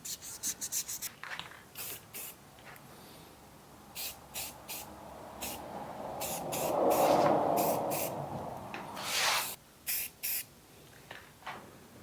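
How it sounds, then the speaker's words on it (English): A taped, painted surface is sanded by hand in repeated short rasping strokes, close and fairly quiet, with a longer, steadier stretch of scrubbing in the middle. "And I'm going to sand everything that's exposed."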